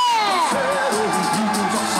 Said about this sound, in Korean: 다시 한번 큰 박수와 함성이 지금 필요합니다.